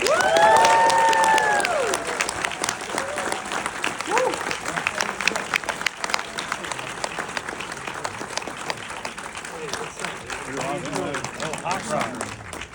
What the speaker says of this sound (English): I'm also going to need a really, really big applause for the star of The Luckiest Man in America